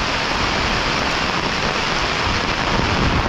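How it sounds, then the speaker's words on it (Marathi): Heavy rain pouring down over farm fields, a dense, unbroken roar of downpour that stays loud and steady throughout, with no voices over it. "अरे जोरातच पाऊस आला हा बघा कसं पाणी आहे बघा"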